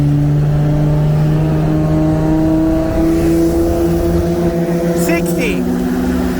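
A built 2020 Audi RS3 with a turbo kit on E85 runs a 60 mph roll race against a 2017 Porsche 911 Turbo, heard as a loud, steady engine drone rising in pitch, with one gear change near the end.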